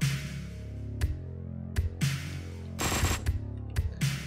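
Uzi fire in Hotline Miami 2: Wrong Number, loud sharp bursts of automatic gunfire in short separated volleys, including a rapid double burst, over a steady droning background track.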